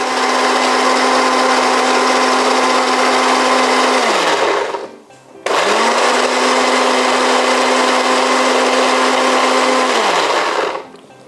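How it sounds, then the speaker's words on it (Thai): A loud blender mixing salad dressing runs steadily, winds down briefly with a falling motor pitch, then starts up again and runs before cutting off. "เปิดปิดปิดเครื่องปั่นบ่อยๆนะคะ"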